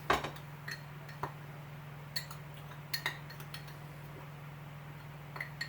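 A spoon clinks against a bowl while mixing ground ginger with turmeric powder, giving a dozen or so light, scattered taps and scrapes, close and fairly quiet, over a steady low hum, with no talking.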